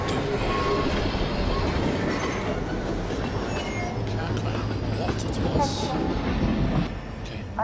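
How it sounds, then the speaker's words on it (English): A train rumbles past in the video game Half-Life 2, with a steady loud clatter and faint wheel squeal, and a voice talks over it. "now the train has blocked the path."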